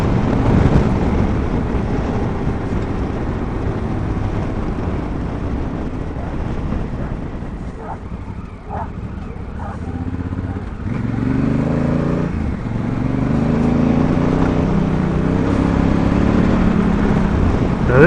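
Honda Africa Twin motorcycle on MotoZ Tractionator adventure tires riding loose gravel at about 55 mph, a steady loud engine drone with heavy wind rush and crunching tire noise throughout, no talk.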